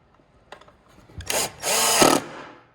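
Small screws being driven into a battery box lid with a power drill, short bursts building to a sustained whine of about half a second, close and fairly loud, with no talking.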